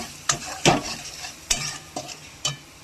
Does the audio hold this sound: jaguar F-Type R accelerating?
no